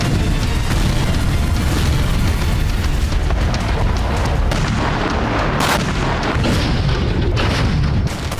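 Rocket strikes on Ukrainian positions in Donetsk come through as loud, dense booms and blasts layered over continuous rumbling, with sharp bursts clustering toward the end.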